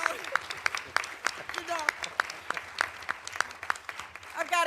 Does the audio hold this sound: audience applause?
yes